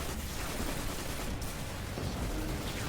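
Auto rifle fire in the Destiny 2 video game, a dense, continuous rattle of rapid shots mixed with booming impacts, loud and steady for the whole stretch.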